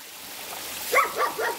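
Dogs on a hiking trail give three short, faint barks in quick succession against a steady background hiss that sounds like trickling water.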